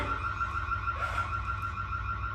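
A car alarm wails on at night near the sea, a steady repeating electronic tone pulsing over a low background rumble, moderately distant and alone without talk.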